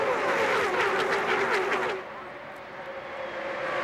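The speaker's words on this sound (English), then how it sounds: "these cars are strung out, single file, just double file" A pack of NASCAR stock cars roars past at Talladega Superspeedway during the 2002 race, a loud engine blare for about two seconds that then drops to a distant, lower drone.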